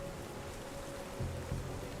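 Steady night rain falls along a coastline, a soft even hiss throughout with a brief low rumble near the end, no voices.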